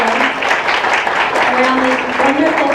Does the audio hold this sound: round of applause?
yes